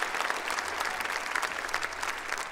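Brisk crowd applause at a high school graduation ceremony in Skyridge, many hands clapping densely and evenly for a few seconds without a break.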